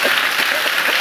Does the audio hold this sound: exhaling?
no